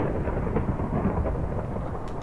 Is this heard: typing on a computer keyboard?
no